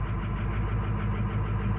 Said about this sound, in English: Up high idle, cold idle just kicked on.